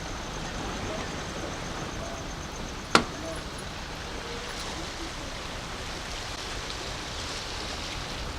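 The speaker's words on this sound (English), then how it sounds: "It's raining a little bit" Broadband hiss of light rain by the water in Dominica, steady and even throughout, with a single sharp click about halfway in.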